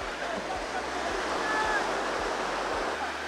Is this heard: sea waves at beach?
yes